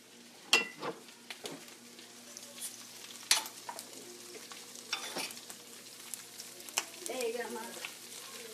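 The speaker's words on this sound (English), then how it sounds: "As soon as I get my onions sauteing pretty good." Onions sautéing in a pan, a low sizzle broken by several clattering stirs and scrapes of a utensil, close by; faint voice-like sounds in the background.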